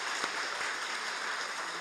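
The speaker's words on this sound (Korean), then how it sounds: "우리 찬양대원들 수고 많이 하셨는데 격려의 박수 한번 더 쳐주시면 고맙겠습니다" Congregation in a church after an Easter service applauding the choir, a soft, steady wash of distant clapping at low level with no voices.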